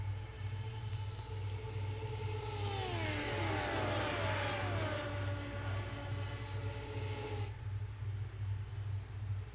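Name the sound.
Radical SR8 race cars at Le Mans, sim racing video game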